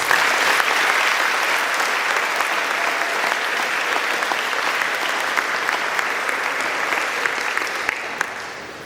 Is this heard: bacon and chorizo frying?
no